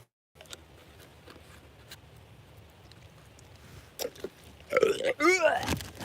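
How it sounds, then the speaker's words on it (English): A person makes a fake burp and mock retching sounds, a couple of loud, harsh guttural bursts near the end following quiet background noise. "I tried to like burp and pretend like I was throwing up"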